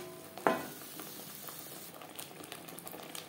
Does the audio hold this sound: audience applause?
no